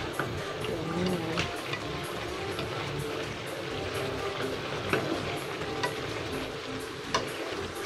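Chicken tinola with pepper gets stirred in a pot, a soft scraping and bubbling sizzle running steadily with occasional light clinks of the spoon against the pot.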